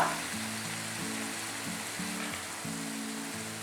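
Tomato and green chili sautéing in leftover oil for a tomato coriander chutney, a soft, steady sizzle with no talk, heard under a faint repeating musical pattern.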